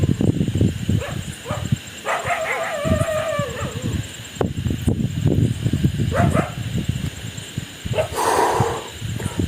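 Dogs bark at night in short bursts at intervals, some close and some farther off, over a noisy outdoor background in Tamil Nadu.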